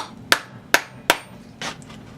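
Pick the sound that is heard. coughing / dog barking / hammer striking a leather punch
hammer striking a leather punch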